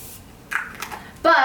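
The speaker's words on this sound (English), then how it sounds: "Another good affordable setting spray." Makeup setting spray hisses out in two quick bursts, the second one louder and sharper, close to the microphone in a quiet room.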